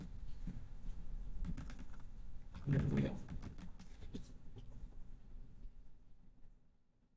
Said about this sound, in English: Is it my keyboard really making so much noise?